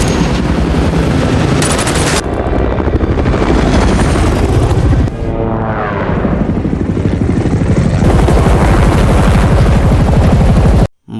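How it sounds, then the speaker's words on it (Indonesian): In an action film scene, a helicopter's rotor thrums loudly while bursts of rapid gunfire from it crack over it, ending abruptly in sudden silence. "Sementara helikopter terus menembaki mereka berdua."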